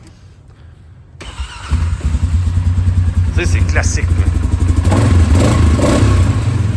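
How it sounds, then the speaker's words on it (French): A 570 single-cylinder ATV engine cranks over, catches and settles into a steady, loud idle with some revving, while someone talks over it partway through. "je vais te faire écouter le son d'un 570. Ça, c'est le son d'un VTT qu'on connaît tous."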